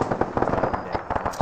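A smoke grenade going off in ArmA 3 during a squad operation, a string of sharp crackling pops and bursts over a steady hiss, close and fairly loud, with no talk.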